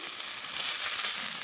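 Kol pitha batter frying in a hot pan gives a steady, close sizzle that swells slightly midway, with no voices.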